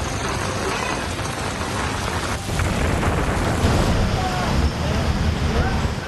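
Heavy monsoon rain pours down over Mumbai's suburbs near a waterlogged road, a dense, loud, unbroken hiss of falling water that swells slightly midway and holds steady throughout.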